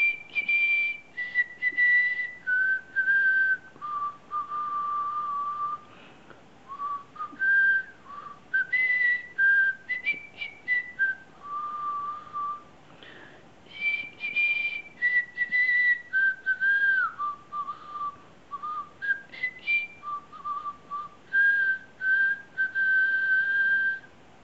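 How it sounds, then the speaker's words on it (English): A melody produced by teeth whistling, a steady stream of clear sustained notes stepping up and down in phrases with short breaks, close and fairly loud, with no voices. "Have you heard of teeth whistling?"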